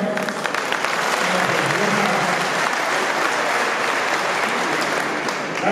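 Sustained applause from an audience at the Youth Connect Awards in Rwanda, a dense, even wash of clapping that stays loud for several seconds.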